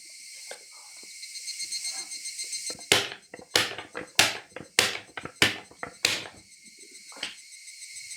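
Rhythmic flapping slaps of sandals on a road while running, a string of sharp close hits in a steady gait over a constant background of chirping insects, no voices.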